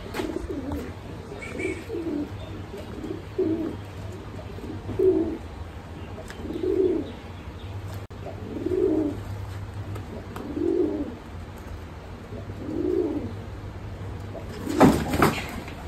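A pigeon coos in a steady series of soft, rhythmic phrases near a home pigeon loft, repeating every second or two over a low background hum, ending with a brief louder clatter.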